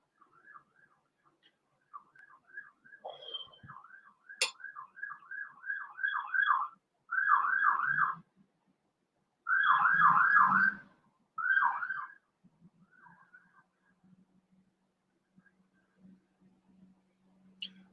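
Sirens wail and yelp from a highway about a block away near a bridge overpass in Canada, in rising warbling bursts that swell louder in the middle and fade away, with a faint low rumble beneath.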